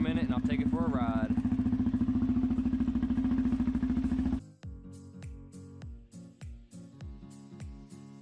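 An ATV engine idling while it warms up, a steady loud drone for about four seconds, then a sudden drop to quieter knocking putter with intermittent clanks, close by.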